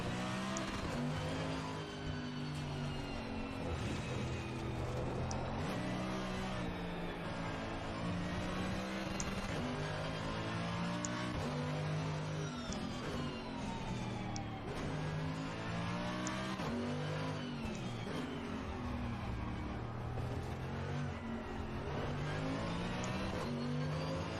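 Race car engine in the Assetto Corsa Evo driving game revs continuously and loudly, rising and falling through repeated upshifts and downshifts, with a faint tire squeal mixed into the steady roar.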